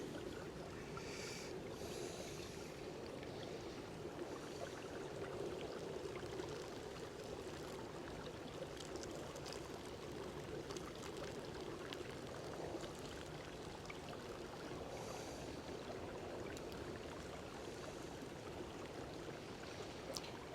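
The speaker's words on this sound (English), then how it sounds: "I like to pour it slow so the grounds get soaked through." Boiling water poured slowly from a GSI Glacier stainless mess kit pot over coffee grounds in a mug gives a soft, steady trickle that runs on quietly and evenly throughout.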